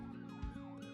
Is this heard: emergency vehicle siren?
yes